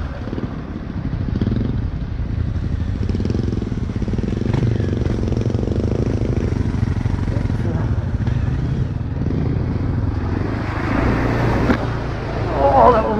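Beta Alp 4.0 motorcycle ploughing through deep mud puddles, its engine droning steadily close up with splashing and a rising rev near the end, while a rider talks over it.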